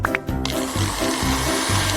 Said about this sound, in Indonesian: Oke, tolong haluskan.